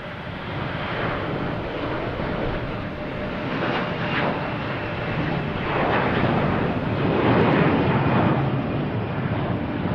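An Alaska Airlines jet departs runway 22 left at Boston Logan, giving off a continuous broad engine roar that builds gradually, with gusty rumble and no talking.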